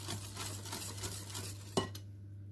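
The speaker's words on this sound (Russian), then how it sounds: "Всыпала оставшуюся муку и еще раз хорошо перемешиваем" A spoon scrapes and stirs through thick pie batter after the remaining flour goes into the bowl, a quiet steady swishing with a sharp clink near the end.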